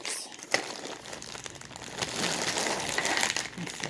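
Steady crinkling of a plastic bag holding coiled zippers, close and continuous for several seconds with no voices.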